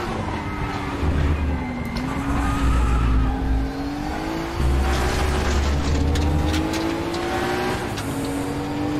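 A Kremer Porsche race car roars through an e-racing video game, its engine note rising and dipping through gear changes, with steady loud drone and occasional tire squeal.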